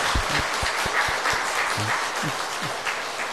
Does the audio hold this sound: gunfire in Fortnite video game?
no